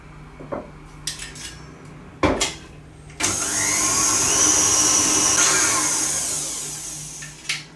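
A spatula scraping around the sides and bottom of a mixing bowl of flour and butter for cinnamon puff pastry, a few light clinks and scrapes followed by a long, steady, loud grinding whir, with no talk.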